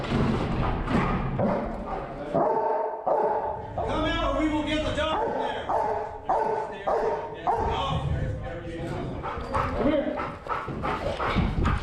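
A police service dog barks in loud, repeated bursts while tracking down and catching a criminal suspect, with shouting voices and scuffling mixed in throughout.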